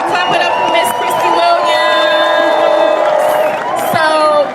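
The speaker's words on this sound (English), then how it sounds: "Y'all clap it up for Miss Christy" Crowd at a reparations movement gathering cheers, whoops and shouts loudly after a speaker, an energetic mix of voices and cheering with speech babble running through it.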